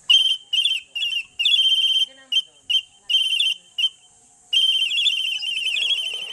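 A high, shrill Aeta flute plays short chirping bursts and trills, imitating bird whistles, separated by brief silences before a longer warbling phrase.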